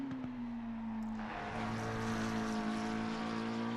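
A race car engine in Assetto Corsa at Laguna Seca comes back on throttle, a steady droning note rising and thickening as the revs build, with no one speaking.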